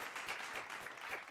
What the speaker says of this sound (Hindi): इनके लिए भी जोरदार तालियां बनती हैं।